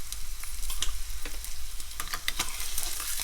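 Curry leaves sizzling in hot oil in a pan while cooking Telugu-style taro root (chamadumpa) fry, a dense steady crackle with sharp pops scattered throughout, close and loud with no one talking.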